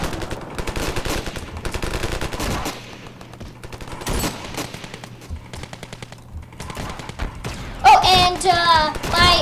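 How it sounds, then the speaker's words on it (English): Minigun in the video game Ravenfield fires rapid sustained bursts of dense, chattering gunfire with loud thuds between volleys, then a brighter burst near the end. "Minigun! Yeah, guys, this is awesome."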